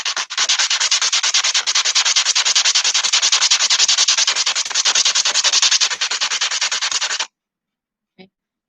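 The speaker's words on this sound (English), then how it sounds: "you're going to rub it on the sandpaper" A wooden popsicle stick rubbed steadily back and forth on sandpaper for ceramics tool-making, giving a continuous close, loud gritty scraping for about seven seconds, then stopping, with one brief faint tap near the end.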